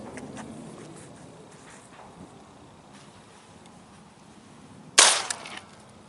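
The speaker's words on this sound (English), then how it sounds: "I'm going to put another one of those 4 pellet triple-aught buck on that target" One loud shotgun blast of four-pellet triple-aught buckshot fired at a target seven yards away outdoors, a sharp crack with a short echo tail, preceded by quiet wind and faint background noise.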